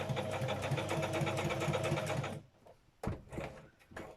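A sewing machine stitches through paper journal pages with a rapid, steady mechanical rattle for about two seconds, then stops, followed by a few quiet handling clicks and thumps.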